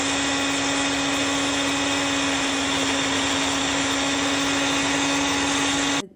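An electric mixer churns date cake batter in a loud, steady whir with a constant hum, running without pause before switching off abruptly near the end.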